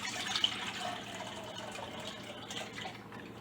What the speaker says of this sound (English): what we're going to do is just pour that straight into our pot